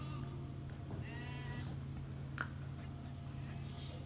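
A lamb bleats faintly in a few wavering cries from a film scene, heard softly over a constant low hum.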